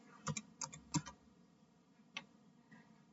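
Typing on a computer keyboard while configuring a Debian 8 server, a few quiet scattered keystrokes in short clusters, close and sparse, with no talk.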